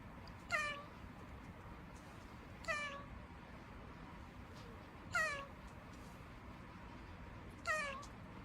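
Four evenly spaced, cat-like meowing calls from a hyrax, each a brief descending wail repeating about every two and a half seconds over a faint steady background hum.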